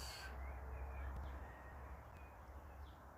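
A raven caws several times at a distance in a magical fairy-tale story, the harsh calls spaced out over a steady low background rumble.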